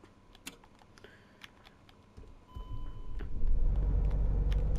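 Bus engine in a bus driving video game starting up: a few clicks and small taps first, then the motor catches and builds into a loud, sustained low rumble.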